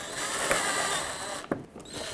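A power drill drives 7mm screws into the headlight shield of a 2007-2009 Saturn Aura, giving a steady whirring run and then a short burst, close by, with no talking.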